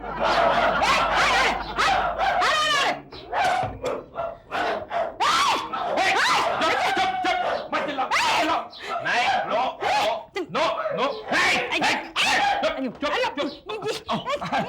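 Several dogs bark loudly and over each other in a dense, chaotic chorus that keeps going, with excited voices mixed in.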